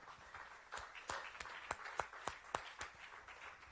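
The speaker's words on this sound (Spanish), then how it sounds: "Un aplauso al Señor, hermano" Church congregation applauding the Lord, heard as a quiet, distant scatter of separate hand claps, roughly a dozen sharp strikes in an uneven rhythm over a faint background.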